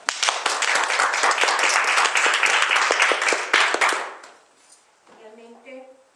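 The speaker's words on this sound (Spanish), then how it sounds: "Un aplauso a la invitada." A church congregation claps for a guest speaker, sharp and fairly dense for about four seconds before quickly dying away. A voice begins speaking faintly in the quiet that follows.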